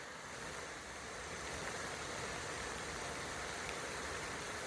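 Flash flood water roars off slick rock after a spring downpour near Harris Wash in the Escalante, a steady broadband rush that stays constant and moderately distant with no voices.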